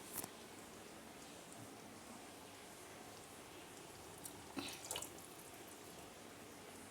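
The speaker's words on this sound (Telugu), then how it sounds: "కొంచెం వాటర్ వేసుకుంటాము" A little water is poured into a pan of paneer gravy, a faint, steady trickling wash with a couple of soft splashes and clinks near the start and toward the end.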